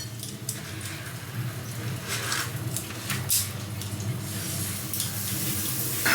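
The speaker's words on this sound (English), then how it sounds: "So I'm gonna take some butter and put it on a separate pan." Butter sizzles steadily in a separate pan, heated for charring burger buns, a continuous close frying hiss with occasional crackles and no talking.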